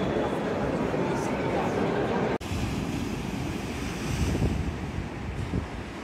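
Wind buffets the microphone at the seaside while ocean waves wash steadily in the background, a loud continuous rush with a brief dropout, and a voice talks over it.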